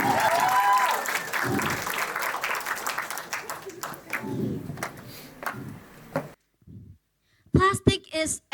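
An audience applauds a student speaker with steady clapping under cheering and voices that thins out and stops, followed by a few spoken words.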